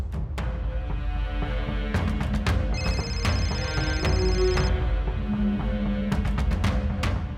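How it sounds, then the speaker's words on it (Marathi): A phone rings with a repeating electronic tone over background noise, the ring pattern pulsing and then continuing in bursts. "बाबांचा फोन"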